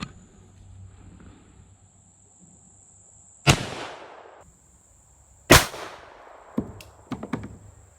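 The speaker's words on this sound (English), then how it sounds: "we're also going to shoot into them wooden boards right there across the chronograph with this beautiful little rifle" A Winchester 53 rifle chambered in 25-20 WCF fires into wooden boards across a chronograph outdoors: two loud, sharp shots about two seconds apart, each with a decaying tail, then a few fainter cracks, with insects chirping steadily in the background.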